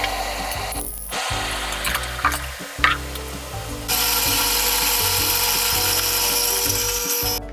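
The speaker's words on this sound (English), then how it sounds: "Now we're ready to grind." A coffee grinder whirs through 15 grams of beans for pour-over, a loud close motorized grinding drone that starts and stops in short bursts, then settles into a sustained, steadier whine.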